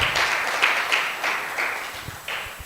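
A Spanish-speaking church congregation claps together at the close of a service, a steady mass of hand claps of moderate loudness that swells in waves, with no voices over it.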